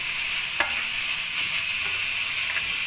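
Chopped carrot fries in a pan for chicken pasta, giving a steady loud sizzle that runs the whole time, with a few faint stirring scrapes and no talking.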